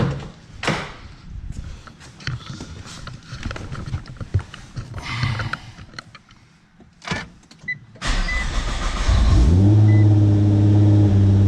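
A Nissan GT-R is started after repairs: interior clicks, door and cabin clatter come first, then the starter catches and the engine fires into a loud, steady idle close by.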